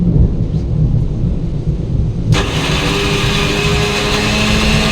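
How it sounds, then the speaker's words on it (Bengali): Thunder rumbles through heavy rain, a low rolling boom under steady loud rainfall that suddenly swells into a brighter, denser downpour partway through. "শুনতে পাচ্ছ কেমন মেঘ ভীষণ বৃষ্টি হচ্ছে"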